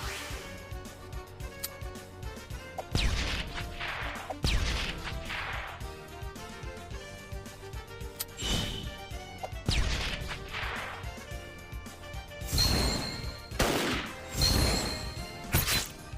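Metal Slug Tactics team sync attack, a run of sharp whacks, crashes and whooshing impacts over steady game music, with the hits landing in clustered bursts of strikes.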